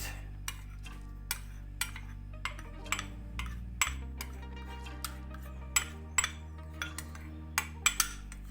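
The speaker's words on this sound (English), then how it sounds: "the last part of sugar powder, and keep whisking everything. Add my chocolate." Chocolate and sugar mixture whisked in a bowl while making a Christmas chocolate log, with repeated clinks and taps of the whisk against the bowl over a steady low hum, no talking.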